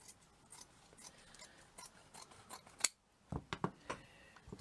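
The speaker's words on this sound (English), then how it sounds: "Let me just clear my scissors." Scissors snip through paper while a Christmas bauble is being made, a run of quick soft cuts followed by a few sharper, louder snips close by, with no talking.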